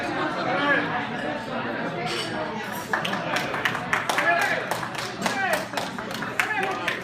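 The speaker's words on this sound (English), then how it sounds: "Give yourself a big round of applause." Audience at a Saint Mary's High School class of 1964 50th reunion applauding, steady clapping with scattered sharper claps and background chatter running throughout.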